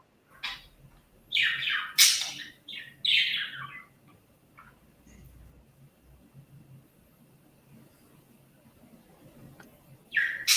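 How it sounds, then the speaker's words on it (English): Birds squawking and chirping as if fighting, a cluster of loud harsh calls in the first few seconds, then near quiet with low background hum, and another sharp burst at the very end. "them fucking birds, they fighting or what?"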